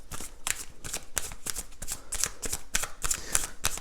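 Oracle cards shuffled by hand, with rapid riffling bursts of crisp paper flutter repeating in a steady rhythm, close and fairly quiet, no talking.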